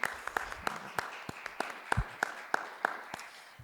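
A small group gives a thin round of applause at a city disability advisory committee meeting, with a handful of distinct, sparse claps in an irregular rhythm that fade out.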